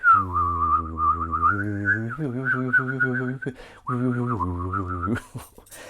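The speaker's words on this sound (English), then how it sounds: "Very good bitonal whistling." A clear, loud whistled tune with two simultaneous tones, running steadily with brief pauses and ending in a burst of noise.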